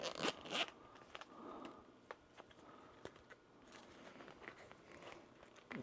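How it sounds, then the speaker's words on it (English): The zipper on a case holding an HP-41 calculator is drawn open, giving a few faint, close rasping pulls with small rustles and clicks between them. "So we'll go ahead and unzip."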